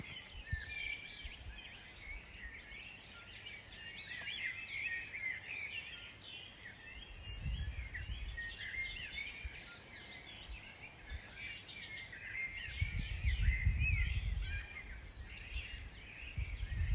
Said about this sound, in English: the birds just chirping all across the hike we were on sounded lovely.